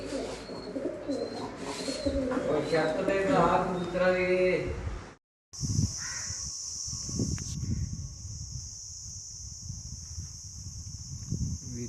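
Pigeons settling after a racing pigeon competition flight, soft cooing and bird calls heard intermittently under steady talk, with a brief silent break midway.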